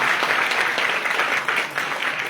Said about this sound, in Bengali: ভাইয়ের জন্য আরেকটু জোরে হাততালি